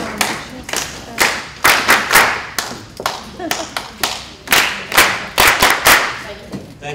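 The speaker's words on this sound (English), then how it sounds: "If I have a volunteer who'd like to do a rhythmic clapping, that's cool too." A volunteer at a STEM conference claps hands in a loose rhythm, loud close claps arriving in uneven groups and pairs, with a few faint voices underneath.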